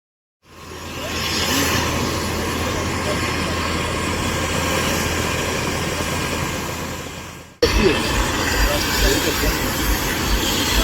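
A loud, steady mechanical roar builds from silence and holds as a helicopter's rotor and engine spin up on a riverbank, then continues after a sudden cut.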